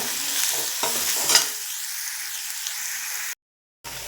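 Green chillies sauté in a pan for a pea curry, a close sizzle with a few scraping stirs early on, fading into a steady fry hiss that cuts out briefly near the end.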